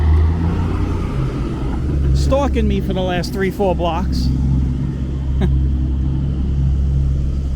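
A heavy truck keeps pace beside a pedestrian on 10th Avenue in New York City, its engine giving a loud, close, steady low rumble through the whole stretch while someone talks over it.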